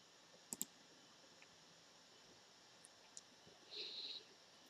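Mouse clicking the apply button in the Unity editor: two quick, faint clicks close together near the start, then near-silence with a few tiny ticks and a brief thin tone.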